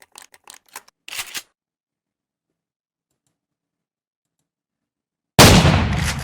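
In a Roblox game of Buckshot Roulette, a few sharp mechanical clicks come first, then after a pause a live shotgun shell fires with a sudden loud, booming blast that rings out to the end.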